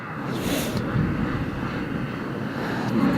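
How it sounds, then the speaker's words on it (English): Several motocross bike engines running together before the start of a national championship race, a dense steady roar with wind buffeting the microphone. "the riders have been ordered to start their engines"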